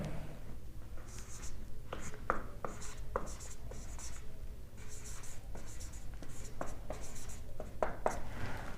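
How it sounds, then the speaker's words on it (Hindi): A pen scratches across paper while physics data are written out, with quick strokes and short pauses over quiet room tone and no speech. "गिवन डाटा जो है वो लिख लेते हैं"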